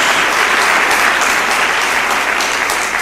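A church congregation bursts into loud, sustained clapping, many hands together forming a thick, even roar that holds steady from start to finish.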